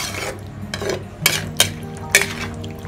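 A spoon scrapes and clinks against a pan while chicken masala is stirred, several sharp metallic taps over a low simmering bed, close and fairly quiet.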